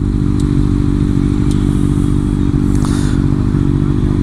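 A Kawasaki Ninja ZX6R motorcycle engine runs loud and close, holding a steady, heavy drone with a few light clicks and rattles over it.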